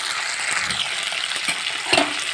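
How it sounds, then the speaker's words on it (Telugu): Mixed vegetables and green peas fry in a pan for a curry to go with puris, giving a steady close sizzle with a few soft stirring scrapes and no talk. "ఇలా మొత్తం ఇలా ఫ్రై చేసుకోవాలండి"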